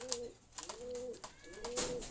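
A big-size Jacobin fancy pigeon coos nearby in three drawn-out, level calls with short gaps between, fairly soft, over faint rustling and clicks.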